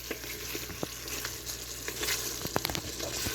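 White karahi sizzles gently in a pan over low heat, a steady soft frying crackle with occasional spoon scrapes and taps, close and quiet with no talking.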